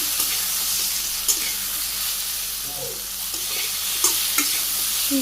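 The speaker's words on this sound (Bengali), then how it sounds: "লবণ হলুদের গুঁড়ো শুকনো মরিচের গুঁড়ো সব কিছু দিয়ে দিলাম আমি হালকা কষিয়ে নিই" Spices are sautéed with salt, turmeric and dried chili powder in a Bangladeshi village kitchen, a constant close sizzle with occasional scrapes and taps of a stirring spoon.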